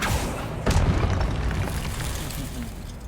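A Confringo blasting spell goes off in the video game Hogwarts Legacy: a loud, booming blast erupts abruptly and then rumbles on steadily, with no talking over it.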